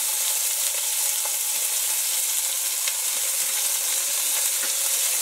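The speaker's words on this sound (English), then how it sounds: "we're going to add 2 pounds of ground beef and 2 pounds of Italian sausage" Two pounds of ground beef and two pounds of hot Italian sausage frying in smoking-hot oil in a pan for chili, a loud, dense, steady sizzle with faint crackles throughout and no talking.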